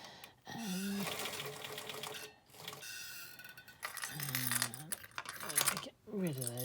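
A sewing machine stitches a fabric face covering in quick, steady mechanical runs that stop and start a few times, close and fairly quiet.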